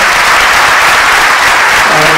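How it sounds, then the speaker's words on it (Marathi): Loud, dense applause from a large audience welcoming student toppers at a live interview event in Pune, steady and continuous clapping filling the whole moment. "या विद्यार्थ्यांचं जोरदार टाळ्या वाजवून स्वागत करावे"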